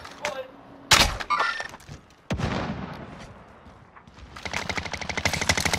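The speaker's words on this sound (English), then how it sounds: "how can you shoot from that far away with a fucking LMG?" LMG fire in a first-person shooter rattles out in sharp bursts and rapid repeated shots, ending in a fast, dense string of rounds, with voices talking over parts of it.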